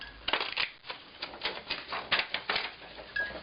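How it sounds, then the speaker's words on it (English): A die cutting machine pressing and cutting a sheet of scrapbook paper, heard as a run of close, clicky, rattling taps in an uneven rhythm, fairly loud with no talking. "Then I can die cut another piece"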